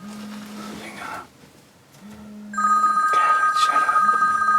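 A mobile phone rings with a sharp electronic tone during an elk hunt in Michigan, starting partway through and continuing loudly, while a low steady tone and soft whispered voices sit underneath earlier.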